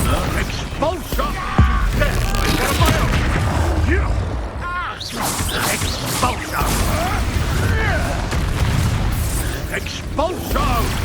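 Expulso spell explosions in the video game Hogwarts Legacy burst repeatedly amid combat clatter and crashes, loud and close, while a voice calls out spell names throughout.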